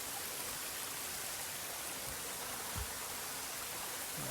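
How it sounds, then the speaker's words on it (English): A small babbling brook runs in rural Ireland, a steady broadband rush of flowing water heard close and alone, with a couple of faint low knocks. "Little babbling brook."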